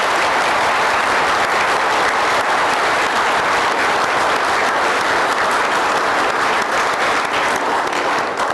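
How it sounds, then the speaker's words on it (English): At a Village of Ridgewood council meeting, the room gives new police officers loud, sustained applause, a continuous dense wash of clapping that stays even from start to finish. "let's give them a round of applause"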